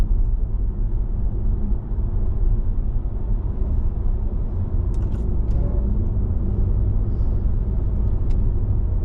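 A BMW iX1 electric car accelerating hard in sport mode on a road, heard from inside as a loud, steady low rumble of tyre and road noise with a few brief higher clicks near the end, no voices.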